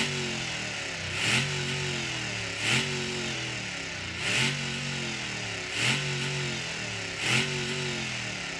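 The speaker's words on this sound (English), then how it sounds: "It actually doesn't sound too bad because you can't really adjust the exhaust sounds too much in this game, but it is kind of obnoxiously loud." Loud, obnoxious exhaust drone from a homemade squatted truck in the BeamNG.drive video game, a steady engine hum with five evenly spaced revving swells, no voices.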